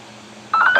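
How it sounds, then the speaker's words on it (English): A cell phone ringtone gives a short burst of bright electronic beeping tones that starts abruptly after a quiet moment and is clear and fairly loud. "That's why I chose that ringtone."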